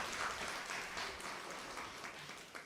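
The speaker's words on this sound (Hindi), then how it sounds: "तालियां तो बजाओ जरा" Scattered audience applause at a spiritual gathering, a steady broadband patter of many hands clapping at moderate volume for a few seconds, without speech.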